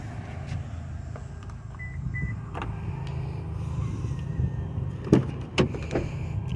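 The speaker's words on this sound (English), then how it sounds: "Seats fold down with just a pull." Leather rear seats in a loaded vehicle fold down with a pull, giving quiet mechanical whirs and faint clicks, then a few sharp thumps and latch clacks near the end.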